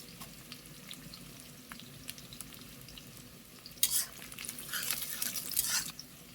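Green chilies sizzle in oil with onion and garlic for chicken curry, a quiet frying hiss that swells into louder spattering bursts as a utensil stirs and scrapes the pan, no voices.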